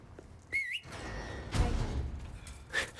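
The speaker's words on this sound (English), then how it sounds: "I just like how he just whistles after her like a dog" Leon whistles for Ashley in the Resident Evil 4 Remake video game: a short, rising two-tone whistle, then a brief second chirp later, amid quiet game ambience and soft shuffling sounds.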